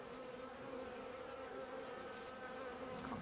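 A honeybee swarm hums steadily on hive frames of nectar and pollen, a close, continuous droning buzz that holds even throughout without any voices.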